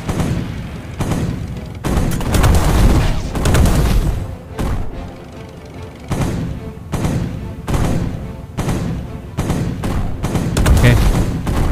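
Enemy tank cannon fire in the mobile game Tank Arena Steel Battle: repeated loud, booming shots in bursts, with a few short gaps between volleys.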